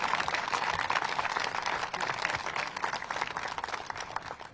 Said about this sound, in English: big round of applause for all the support in the industry